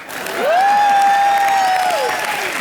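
Studio audience on a Hindi comedy show gives a short round of clapping with a tonal whistle or cheer sliding over it, steady and close throughout.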